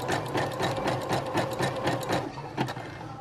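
A Brother sewing machine stitches forward in a rapid, even mechanical rhythm, loud and close, with the pulse briefly faltering near the end.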